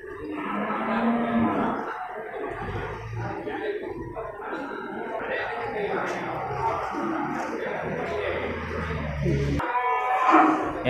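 Cattle low and moo amid a livestock market crowd in Geurugok, with breeding cows and bulls penned in the central shed; steady crowd murmur and voices run throughout beneath the animals.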